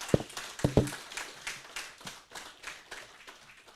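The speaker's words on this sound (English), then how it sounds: "Give me a round of applause." A small crowd applauds at a rally preview event for an international car rally, a few sharp close claps at first, then a loose, thinning patter of clapping that tapers off.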